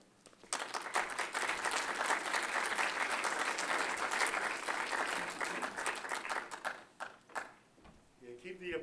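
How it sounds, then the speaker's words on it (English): Audience applause at a history symposium as a speaker walks to the podium, rising sharply and holding steady for several seconds before thinning into a few claps, with a voice starting at the end. "keep the applause going until I get to the podium"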